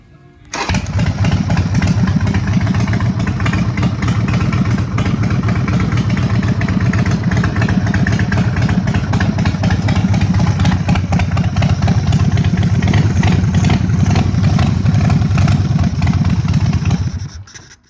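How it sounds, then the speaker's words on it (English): A custom Buell X1 motorcycle engine catches right after the start button and settles into a loud, steady, close idle that runs unbroken for about sixteen seconds before cutting off. "it will start as quick as you touch the start button"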